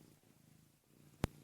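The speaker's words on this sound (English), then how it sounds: "with purring kitty on lap." A cat purrs softly while resting on a person's lap at home, a quiet low continuous rumble broken near the end by one brief sharp click.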